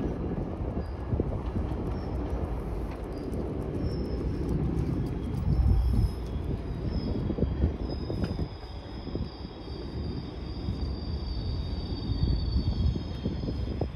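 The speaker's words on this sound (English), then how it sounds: "And here comes another GO train, which is now arriving at Long Branch, which will be bound for Oshawa, or at least Union." A GO commuter train pulls into Long Branch station on an outdoor hike, its steady loud rumble rolling through the whole stretch with high squealing wheel or brake tones layered above.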